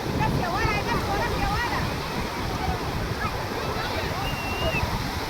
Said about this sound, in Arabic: سامعين الصوت الجميل ده؟ صوت البحر الجميل ده